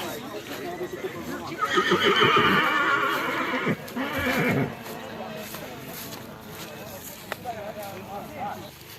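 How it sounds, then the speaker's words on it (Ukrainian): A horse whinnies loudly and at length nearby at a stallion show, followed by quieter snorts and shuffling, with faint people talking in the background. "Там є коні. Вікові коні."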